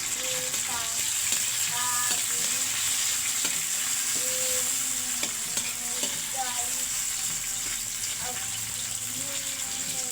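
Bangus, milkfish, sautéed with tomato and alugbati greens sizzles steadily close up, with repeated stirring scrapes and clatters of a utensil against the pan spread through the sound.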